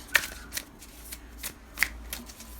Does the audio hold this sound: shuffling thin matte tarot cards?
yes